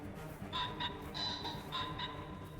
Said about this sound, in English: there is a rooster over there